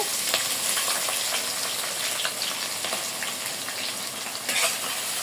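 Onions frying with spices and shahi jeera for pulao while being stirred, a steady, close sizzle with scattered crackles and occasional scraping, no voices.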